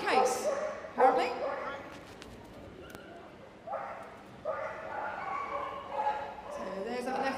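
At a Crufts agility competition a Springer Spaniel gives excited barks and yips, some rapid and high, mixed with whimpering over a noisy arena, with a commentator talking throughout.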